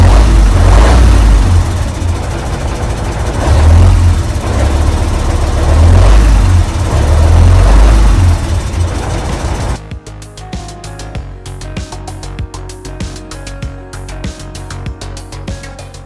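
A Mercedes LP 1932 truck's V10 engine runs with a loud, deep, steady rumble for about ten seconds, then drops to a quieter, lighter idle with a faint ticking rhythm, alone and without talk.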